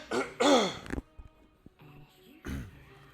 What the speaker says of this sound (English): I've been trying to clear my throat properly for ages.